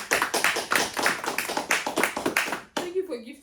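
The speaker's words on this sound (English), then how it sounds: "A huge round of applause for Jendella." A small book club audience gives a brief round of clapping, a quick run of close, sharp hand claps that stops abruptly, followed by a voice speaking.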